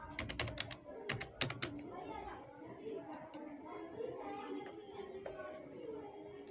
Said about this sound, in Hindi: यहाँ पर नॉर्मली आप स्टॉक का नाम यहाँ पर टाइप कर सकते हैं